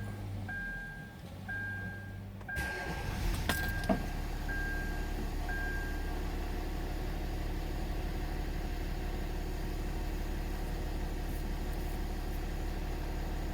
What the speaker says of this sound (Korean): 시동을 걸어 볼게요.